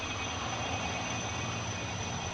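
Korea Forest Service firefighting helicopter, a Sikorsky with two 4,500-horsepower engines climbing while dropping water, gives a steady, loud broadband rotor and turbine roar with no talk.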